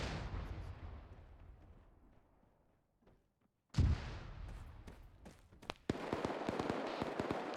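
Mortar rounds landing in a military video game: a low rumble fades to near silence, then a sudden loud impact at about four seconds, followed by a string of sharp cracks and blasts at close range.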